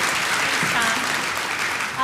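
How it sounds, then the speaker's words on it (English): A business-event audience claps for improv actors coming on stage, a loud, even wash of applause lasting two seconds, with faint voices mixed underneath. "bring my actors up on stage here now, give them a round of applause"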